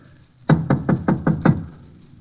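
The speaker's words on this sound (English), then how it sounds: "I'll give it a knock." Six firm knocks rap on a door in a quick, even sequence, loud and close, followed by quiet.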